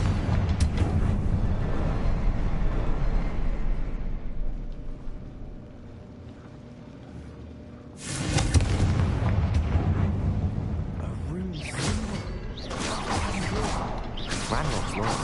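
A Confringo spell in Hogwarts Legacy sets off loud booming explosions with a deep rumbling roar that eases, then a fresh blast bursts out and crackles on, thick and close.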